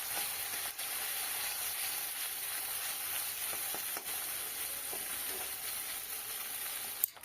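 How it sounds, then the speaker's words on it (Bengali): Small kachki fish fry in white oil, a soft continuous sizzle at low level with a few faint clicks of a spatula, steady throughout and free of talk. "এবার এক এক করে মাছগুলো দিয়ে দিচ্ছি আর এই মাছগুলো ভাজতে না অনেক তেল লাগে সেই কারণে আমি সাদা তেল দিয়েই ভাজা করছি"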